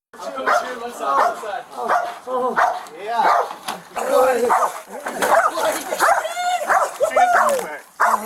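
A police K9 dog barks repeatedly in loud, close bursts mixed with whimpers and yips, while people shout over the barking.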